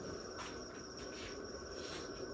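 Crickets chirp steadily as a thin, continuous high trill, with a few louder rasping bursts rising over it; no voices are heard.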